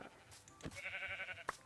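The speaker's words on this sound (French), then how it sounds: "Là, il y a deux moutons." A few short sheep bleats in the Minecraft Bedrock video game, two or three clear calls close by over a quiet game background.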